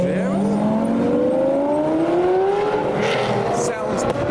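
A Lamborghini Gallardo Superleggera revs hard, its exhaust rising in pitch with a loud, continuous roar and crackling pops near the end, close by at a gathering of modified supercars.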